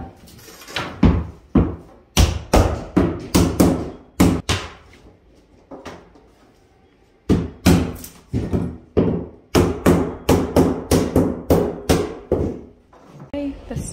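Carpet installation strips are hammered into a mobile home bedroom floor, with loud, close, rapid series of sharp blows in bursts and a brief pause midway.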